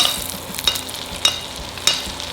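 Pork chop sizzling and spitting in a hot pan as rosemary sits on top and fat is spooned over it, a steady close crackle with sharper splatter bursts about every half second.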